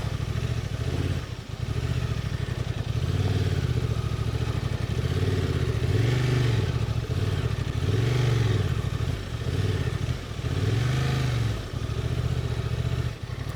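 A Honda Transalp 750 motorcycle struggles through deep sand, its engine droning steadily up close with repeated rising and falling revs as the throttle and clutch are worked, over scraping and clattering.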